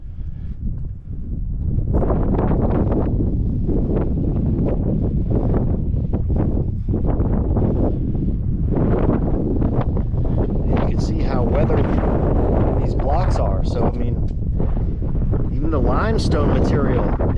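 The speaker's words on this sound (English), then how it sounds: "The wind is blasting out here, sand is blasting all over this." Strong wind blasts across the desert at the Red Pyramid in Egypt, roaring loud and continuous into the microphone with gusting buffets and faint sand hiss, while a voice talks over it.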